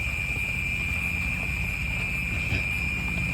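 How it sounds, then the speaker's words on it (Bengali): Crickets shrill steadily and continuously at night while rain keeps falling, a constant high drone over a dense rain hiss, with no voices. "কিরকম ঝিঝি পোকা ডাকছে"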